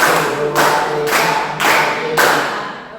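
A group claps together in counted sets, several short bursts of many hands at once in an Indonesian classroom-style activity, each burst a broad dense patter recurring about every half second, loud and close with no talk.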